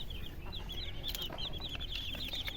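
Aseel and desi chickens wandering under a cot on a farm, giving soft repeated clucks and chirps, fairly faint over low background noise.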